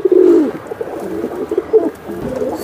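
Silver gorra pigeons coo close by, starting with one loud, drawn-out coo and followed by softer, repeated cooing and rustling. No one talks.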